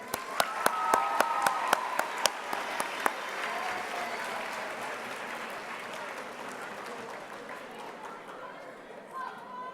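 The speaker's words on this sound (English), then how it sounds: "let's give our recipients a nice applause" Audience applause for award recipients at an 8th grade graduation ceremony, opening with a few sharp individual claps that swell into a dense, steady wash of clapping, then slowly thinning with a crowd murmuring underneath.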